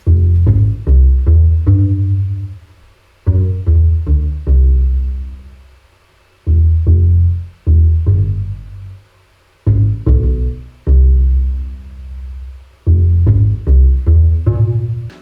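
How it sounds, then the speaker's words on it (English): A stock Ableton double bass patch plays deep, plucked notes in short phrases separated by brief silences, loud and up front with no other instruments. "this is just an Ableton stock sound double bass, which comes with Ableton"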